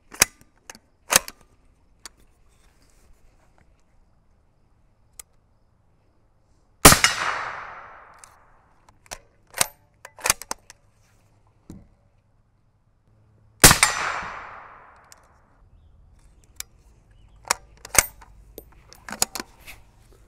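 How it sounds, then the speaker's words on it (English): A Q The Fix rifle chambered in 8.6 Creedmoor fires supersonic rounds at close range: two loud, sharp shots several seconds apart, each trailing off in a ringing echo, with small handling clicks and taps between them. "I'm gonna go ahead and throw a couple rounds downrange,"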